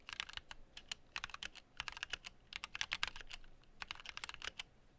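Fast, steady typing on a tape-modded 1stPlayer MK8 Lite mechanical keyboard with Gateron switches, with a muted, slightly deeper clack, heard up close in continuous bursts without speech.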